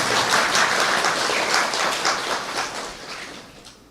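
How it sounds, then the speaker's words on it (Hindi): An audience at a spiritual gathering claps together, a dense wash of applause that stays steady and then gradually fades toward the end. "अपने लिए भले ताली बजाओ"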